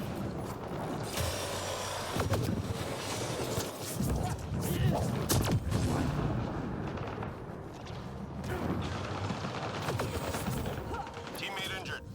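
Enemy gunfire in Mass Effect Andromeda multiplayer, bursts of sharp shots and impacts scattered over several seconds amid game noise, with a voice talking over it.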